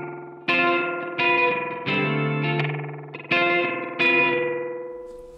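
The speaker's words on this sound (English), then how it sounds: "That sounds like a bathroom reverb." Plucked instrument notes run through a bathroom reverb setting on an Arturia delay plugin, six or so distinct attacks each ringing out with a short, roomy decay.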